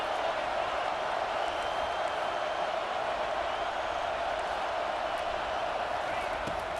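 Stadium crowd in a college football video game, a dense, steady roar of noise holding constant throughout without distinct claps or peaks.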